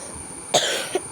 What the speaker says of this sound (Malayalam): ഇന്നെന്താ ഇച്ചിരി ചുമയാണെന്ന് അറിയില്ല, അസുഖമാണ് എനിക്ക്